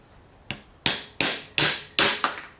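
Six sharp blows of a hammer on a piece of timber set over a ball bearing to knock it out, evenly spaced, close and crisp, each with a short ringing decay.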